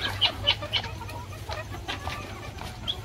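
Free-range hens on a farm cluck and chirp in short repeated bursts, several birds near and farther off, over a low steady rural background.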